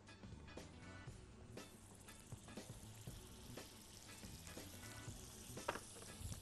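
A cube of butter melts in a well-heated frying pan, a quiet, soft crackling sizzle with occasional faint pops and clicks, heard alone at low level.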